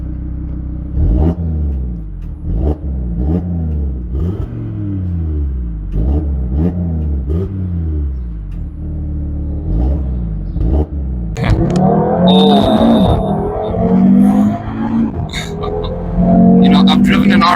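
A 2022 Audi TT RS engine and exhaust revs repeatedly in short, rhythmic blips heard from close by, then climbs into a louder, sustained roar with crackling and a high whine near the end.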